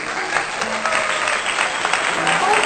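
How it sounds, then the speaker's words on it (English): Classroom applause for Group B, a short burst of clapping from a room of students, lively and fairly close, with a few voices mixed in. "Give applause to Group B."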